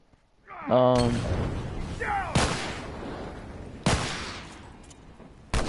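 Gunfire from a match in The Last of Us Remastered, with a few loud, sharp shots and bursts ringing out over background game sound.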